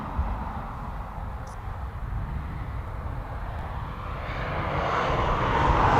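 A jet aircraft taxiing out at East Midlands Airport gives a steady engine rumble and whine that swells gradually louder toward the end, with light wind noise in the background.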